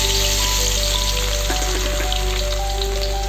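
Garlic frying in hot oil, a loud dense crackling sizzle that stays steady throughout, with a constant low hum beneath it.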